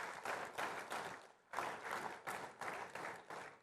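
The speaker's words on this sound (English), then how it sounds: "A big round of applause to our sponsors." An audience gives a big round of applause at a live conference event, a dense burst of crowd clapping that surges in several waves, briefly dips, then swells again.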